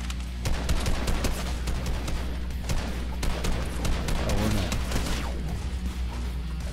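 Rapid bursts of hunting rifle gunfire in a video game crack out repeatedly over a steady low rumble, with sharp transients packed closely across the whole stretch and no speech.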